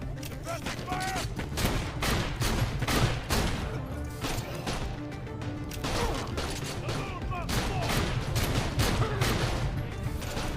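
Dense, sustained gunfire in Borderlands The Pre-Sequel, with rapid overlapping shots and blasts continuing without pause, loud and busy throughout.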